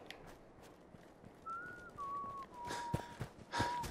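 Whistled tune from a character in the video game Fallout 4, a few clear sustained notes sliding downward, fairly quiet, with soft footsteps and thuds around it.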